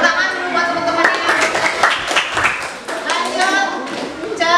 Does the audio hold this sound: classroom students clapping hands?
yes